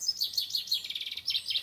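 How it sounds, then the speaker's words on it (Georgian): Small birds chirp and tweet in quick repeated bursts at Martvili Monastery, a seventh-century church site in Georgia, the high calls fairly close and clear over a quiet background with no talking. "მე ჩიტების ხმა."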